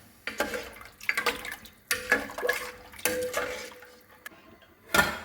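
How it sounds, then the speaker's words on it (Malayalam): Water poured into a pot of mutton rib bone soup being cooked in a home kitchen, splashing in short bursts along with clinks and knocks of a metal pot and utensils, close up. "ഇനി നമുക്കിതിലേക്ക് വെള്ളം ചേർത്ത് കൊടുക്കാം"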